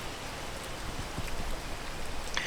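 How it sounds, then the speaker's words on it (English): Rain in the climbing game PEAK, a steady soft hiss of falling drops that swells slightly toward the end, faint and even with no voices. "I'm gonna wait until the rain stops."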